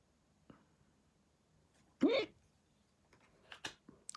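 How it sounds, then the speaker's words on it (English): A single sharp hiccup from a person looking through tarot cards, loud and brief and standing out from a quiet room, followed by softer rustles and small clicks. "Oh, I'm sorry, I'm having a hiccup."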